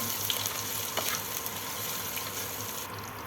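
Grated ginger and cumin frying in oil over a low flame for a Bengali vegetarian potol recipe, a soft continuous sizzle with a little stirring, no voices.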